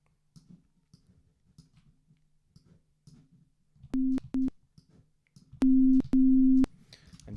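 A synth sequencer built in Reaktor 6 plays steady pure tones in short bursts, two brief beeps and then two longer held notes, after soft scattered clicks of mouse and keyboard.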